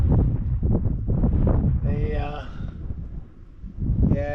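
Strong wind gusts outdoors at sunset, buffeting the microphone with loud, uneven rumbling roars that rise and fall throughout.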